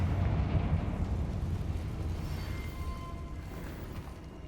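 Confringo fire-blast spell in Hogwarts Legacy, a loud rumbling explosion that starts strong and slowly decays into a long, low roar lasting several seconds, with no talking.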